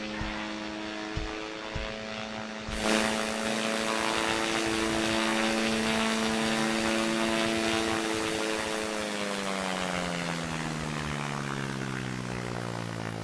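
A propeller plane's engine drones steadily in a QWOP-style flight video game, loud and alone, its tone slowly shifting in pitch as the aircraft climbs and recovers from a stall.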